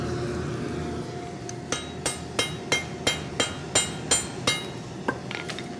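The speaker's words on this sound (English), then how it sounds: "Maybe we'll take it over to the power hammer and give it some stomps." A power hammer pounds a forge-heated bar of niobium with about ten sharp, ringing metallic blows at a steady quick rhythm, close and loud, against a low workshop hum.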